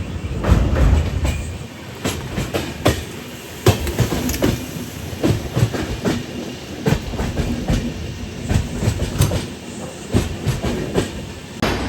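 A Bangalore to Murdeshwara passenger train runs through the Sakleshpur ghat section in the monsoon, with loud, close, rhythmic clickety-clack of wheels over rail joints and a constant rumbling carriage roar throughout.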